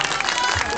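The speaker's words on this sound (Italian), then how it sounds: "Un applauso al Mago Leo" An audience at a magic show during a Franciscan march event in Piombino, Tuscany, claps in a dense burst of applause, loud and close, lasting under a second.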